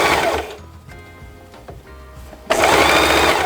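Sewing machine top stitching a belt bag pocket, a fast rattling whir in a short burst, a pause with faint handling, then the machine running again loudly to the end.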